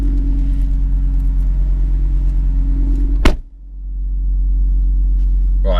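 An Audi RS3 hot hatch idles on launch control with a deep, steady rumbling drone, close and loud. A sharp burst cuts in, the drone dips briefly, then it settles back to the steady hum.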